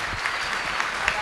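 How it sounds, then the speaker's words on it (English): An audience at a university conference main stage applauds the panelists, a steady wash of many hands clapping at moderate loudness, with no voices standing out. "Please, a big round of applause."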